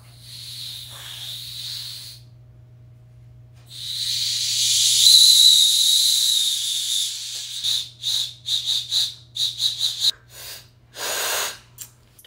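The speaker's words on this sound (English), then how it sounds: "take your thumbs and you place it over the hollow part of the acorn, the squirrel hat. And then, airtight, and you blow on your knuckles" An acorn cap whistle blown between the thumbs over the hollow of the cap, giving a long breathy airy hiss that rises into a shrill whistle, then a string of short sputtering blows and puffs.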